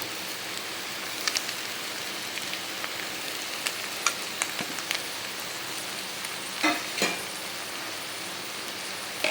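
Chicken pieces frying in a pan with sautéed egg and onion, a steady soft sizzle with occasional sharper crackles and stirring scrapes, close by and without talk.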